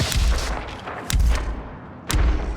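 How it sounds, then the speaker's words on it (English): Three frag grenade explosions in a Gears of War pro league match, deep booming blasts about a second apart, each with a low rumbling tail. "Actually, his first nade will split them."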